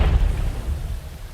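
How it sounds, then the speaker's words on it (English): A dynamite charge dropped from a helicopter explodes on a snowy mountaintop to set off an avalanche, heard as a deep, sustained rumbling boom that rolls on without a break and slowly fades. "the dynamite is dropped from the helicopter, causing this explosion"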